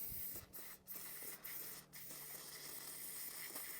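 A GT85 spray lubricant aerosol cleaning a lawnmower carburettor during a repair, giving a steady close hiss that runs nearly throughout with a few brief pauses between bursts.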